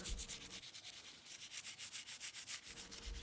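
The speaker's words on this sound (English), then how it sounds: "so first of all I gave it a good scrub" Old dresser hardware being scrubbed clean, a steady back-and-forth rubbing with a brisk, even rhythm, close and fairly quiet, with no talk.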